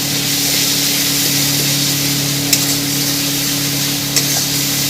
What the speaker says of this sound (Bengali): ভালো করে কষিয়ে নেবো, নিয়ে আপনাদেরকে দেখাচ্ছি।